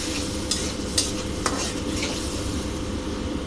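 Masala sautéing in oil with a splash of water for a Bangladeshi fish curry, a dense continuous sizzle under soft repeated stirring scrapes and a few light clinks of the spoon against the pan, nearby and steady.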